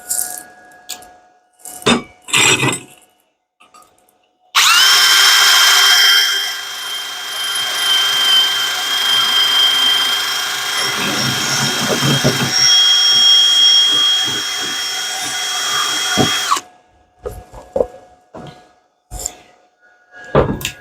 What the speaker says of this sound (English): We'll wire wheel that off real quick